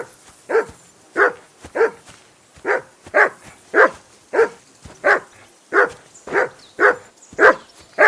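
A dog in the medieval video game Kingdom Come Deliverance II barks repeatedly in a steady rhythm, about a dozen loud, close woofs spaced roughly half a second apart, with no talking.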